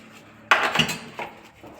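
Metal pots and utensils clatter and clink together, a sharp bang followed by a couple of scraping knocks, close by.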